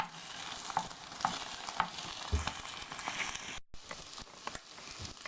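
An omelette fries in a worn, slightly sticky frying pan, giving a soft steady sizzle with occasional light pops and scrapes, quiet and close, no voices.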